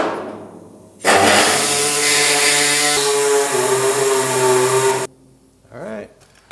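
A power saw cuts through the steel quarter panel of a GTO restomod in one loud, sustained burst lasting about four seconds, with a shifting whining pitch. It is followed by quieter rustling and a short squeal.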